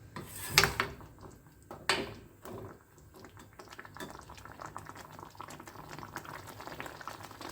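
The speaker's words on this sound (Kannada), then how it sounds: "ಇವಾಗ ಒಳ್ಳೆ ಕುದಿ ಬರ್ತಾ ಇದೆ" Mango sambar simmering in a pot on the stove, two sharp bubbling pops early on, then a steady soft bubbling and spattering that carries on alone.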